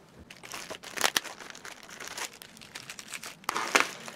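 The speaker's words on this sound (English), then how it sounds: "Now for me to open it with my scissors here." Scissors cut open a mailed package holding a beret, producing crinkling plastic and paper rustles with several sharp, close snips and tears.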